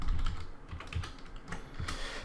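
Quick bursts of typing on a computer keyboard while renaming a layer in Adobe Photoshop, soft close clicks in an uneven rhythm with no talk.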